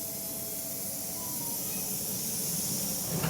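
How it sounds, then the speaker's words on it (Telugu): Cabbage and onion vadiyalu and rice papads frying in hot oil, a dense, even hiss of bubbling oil that holds steady and swells slightly toward the end, close up with no voices. "ఇవన్నీ ఇప్పుడు వేయించుకుందాం మనం."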